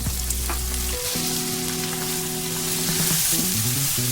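Chopped tomatoes hit browned onions in a hot pan for tomato pulusu, giving a loud, dense, continuous sizzle up close, with a faint tonal hum beneath and no voices.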